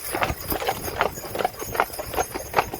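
Steady clip-clop of heavy draft horse hooves on hard ground at a park farm, a regular walking rhythm of clear, close hoofbeats.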